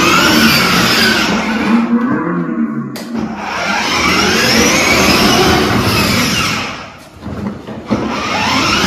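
A car engine revs hard and roars up and down while the vehicle reverses, loud and close, dipping briefly near the end before surging again.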